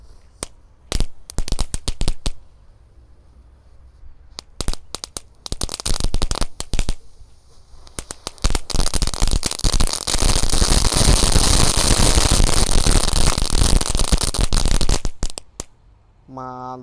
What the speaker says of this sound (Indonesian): Oke teman, yang pertama kita nyalakan adalah mercon telur jino pretek.